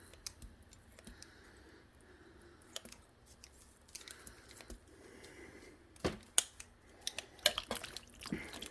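Quiet scissors snipping in short, irregular clicks and crunches, scattered among soft handling noises at close range.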